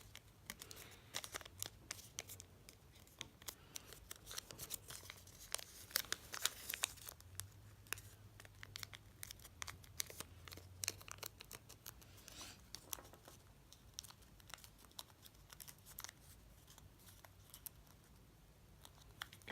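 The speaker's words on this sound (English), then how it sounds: "fold down the corners of these two sides, the ones that you just fold them down again to the vertical crease" Origami paper being folded and creased by hand, with quiet, scattered crinkles, rustles and soft taps running steadily and close throughout, no talking.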